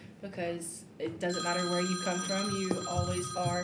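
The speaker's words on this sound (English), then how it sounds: "Sorry about the phone ringing." A telephone rings in the background, its bright electronic tone running steadily beneath someone speaking in the foreground.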